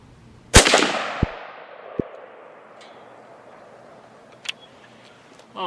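A Mini-14 rifle fired at a target at 100 yards gives one sharp, loud outdoor crack with a ringing tail. Fainter distant shots follow at intervals.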